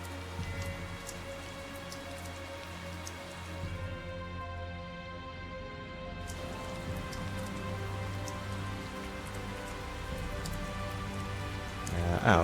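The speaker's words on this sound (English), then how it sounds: "Must be all this rain we're having." Steady rain falling in the video game Tales of Zestiria, a dense, even patter on surfaces that carries on throughout, with a brief dip midway and a slight swell at the end, and no talking.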